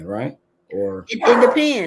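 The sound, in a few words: dog barking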